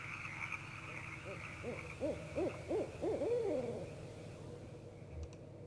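An owl hoots in the video game Kentucky Route Zero, a short series of soft calls rising out of a steady low ambient hum, fairly faint and with no talk.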